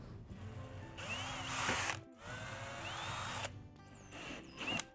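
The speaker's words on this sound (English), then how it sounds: "we're going to start with a 16th inch drill bit for a pilot hole" A power drill whines in bursts, boring holes in a 2022–2023 Subaru WRX bumper, stepping from a 1/16-inch pilot bit up to 23/64 inch, its motor pitch rising and falling, with brief pauses between runs. No talking.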